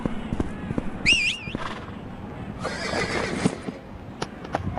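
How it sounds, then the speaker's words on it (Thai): In a Thai video game, a horse gives a loud, wavering whinny, with hoofbeat clip-clops and other game sounds before and after it. "กดตรงนี้ก็จะทำให้ม้าวิ่งนะครับ"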